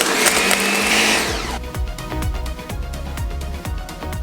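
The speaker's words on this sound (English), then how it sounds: "let's get back over to the blender and blend this up 2 more times" A blender whirs loudly as it blends a protein ice cream mix, a high steady roar at first that drops into a lower, choppy churning with rhythmic thumps as the thick mix catches.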